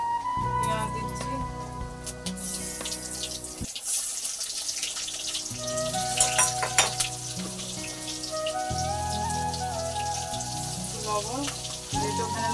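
Onions frying in oil give a steady broadband sizzle that runs throughout, with a voice talking over it and a brief dip partway through.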